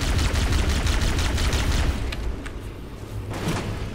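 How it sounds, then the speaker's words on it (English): Rapid, continuous gunfire from Halo: Combat Evolved Anniversary, a dense, loud volley of shots for the first two seconds that thins into scattered bursts and distant pops, with no talking. "don't leave me out of all the shooting"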